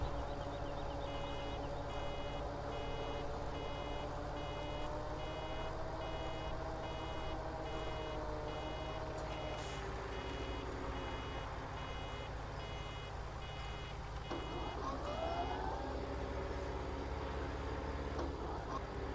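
Reversing beeps from farm machinery in Farming Simulator 17: a steady, regular electronic beeping repeated throughout, faint over a low engine drone, with no talk.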